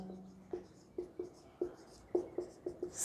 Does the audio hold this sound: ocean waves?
no